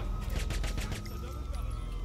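Saints Row 4 gunfire, a rapid fusillade of automatic shots fairly close, dense at first and then thinning into scattered bursts over a rumbling background.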